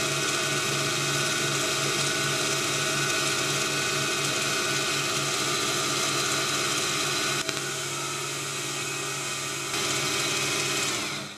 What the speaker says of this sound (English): I now do a turning pass with the threading tool along the full length.